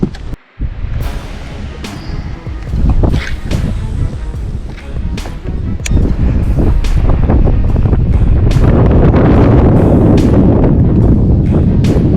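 Strong wind buffets an open fishing boat during fall bass fishing, a steady loud roar of gusts and microphone rumble that builds and stays heavy throughout, with no talking.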